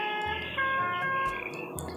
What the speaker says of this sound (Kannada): ಓ, ಇದು 3 ಹಾರ್ನ್ ಕೊಟ್ಟವ್ರೆ.